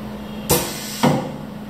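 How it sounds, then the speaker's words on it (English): The pneumatic clamp of an ultrasonic tube sealing machine gives two sharp mechanical clacks about half a second apart, a close, loud closing and releasing hiss-thump over a low steady machine hum. "We can use these two buttons here to test the pneumatic system of our machine."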